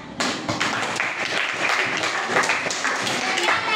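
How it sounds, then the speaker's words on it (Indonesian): A classroom claps for group 4: a steady, fairly close patter of many hands that lasts a few seconds, with some voices blended in. "Kasih aplaus buat kelompok 4"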